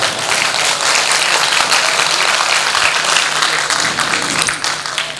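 Loud, dense applause from the audience at a mushaira poetry recital fills the hall throughout, steady clapping that tapers slightly at the end.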